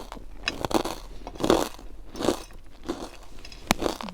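Close, crisp crunching bites into fried chili peppers, about five or six irregular bursts of chewing and crackling over a few seconds, with no talk.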